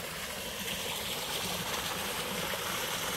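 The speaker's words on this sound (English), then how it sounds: "I'm sitting here, listening to the waterfall." A small waterfall pours steadily into a little pool at a backpacking campsite, giving a continuous, even rush of flowing water close by with no voices.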